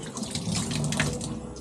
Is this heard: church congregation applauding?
no